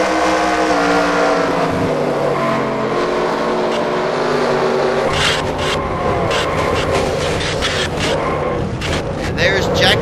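Race trucks crashing at Texas in a sim racing game, roaring engines with shifting pitches and bursts of impact noise over a dense continuous mix, while a commentator talks.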